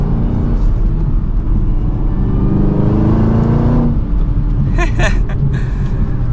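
A 2023 Chevrolet Camaro ZL1 with a supercharged V8 pulls hard from first gear, its engine note rising steadily as it accelerates, then dropping briefly at a shift before climbing again, heard from inside the car.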